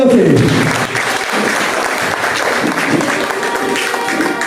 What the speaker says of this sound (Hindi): इसके लिए एक बार जोरदार ताली हो जाए। जोरदार तालियों से।